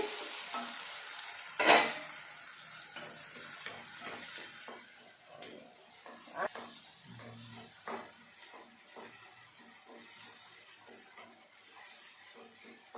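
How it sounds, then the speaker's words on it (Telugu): Tomatoes fry in a pan for a prawn curry, a soft continuous sizzle with scattered scrapes and stirring clatter, one sharp utensil knock near the start, fairly quiet and close. "చూడండి బాగా వేగింది కదా టమాటా"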